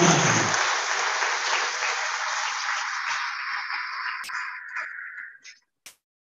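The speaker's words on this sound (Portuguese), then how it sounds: "Palmas para a comunidade." A church congregation applauds during a Catholic mass for the Senhor do Bonfim, with steady sustained clapping that fills the space and then thins out and stops, leaving a few last scattered claps.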